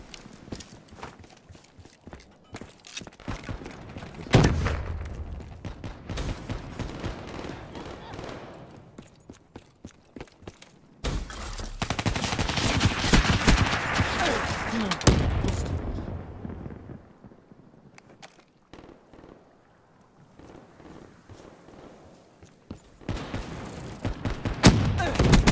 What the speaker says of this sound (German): Ich will gerade die Wand schießen